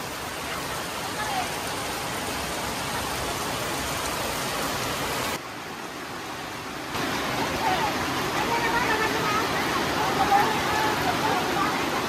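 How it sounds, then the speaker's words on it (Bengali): Heavy rain pours steadily outdoors at a Bangladeshi village home, a dense broadband hiss of drops hitting surfaces that briefly dips before returning even stronger. "মেলা বৃষ্টি নামছে, ঘরে যাওয়া নাম লাগবো।"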